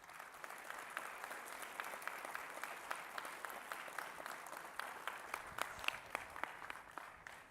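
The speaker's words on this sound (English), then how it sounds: "give a round of applause" An audience at a campus placement programme talk bursts into sustained applause, dense overlapping claps holding steady for several seconds with scattered louder individual claps toward the end.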